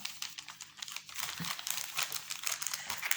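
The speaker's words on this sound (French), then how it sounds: "je range mes feuilles parce que je ne veux pas les perdre" Sheets of paper being gathered and put away, a quick run of close, crisp crinkling and rustling handled alone with no talk.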